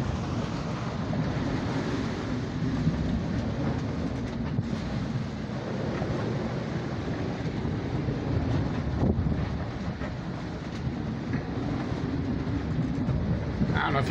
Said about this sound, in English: I don't know if you can hear, the wind's not quite howling, but it's definitely whistling.